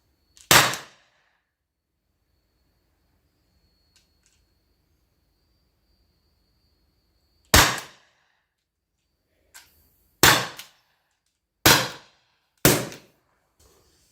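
An Armex .50 non-lethal home defense pistol fires several sharp, loud cracks with long quiet gaps between them: one early shot, then a faster cluster of four or five near the end, heard close with no talk over them.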